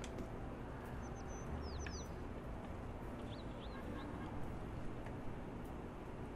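Birds chirp in Little Kitty, Big City, a few short, high, sweeping calls in two small clusters, faint over a steady outdoor ambience.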